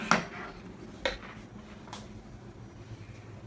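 Pieces of potato are dropped into a baking pan in a home kitchen, making three soft clattering knocks spaced about a second apart against a quiet room.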